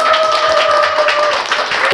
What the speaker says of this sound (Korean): 여러분 큰 박수로 받아주세요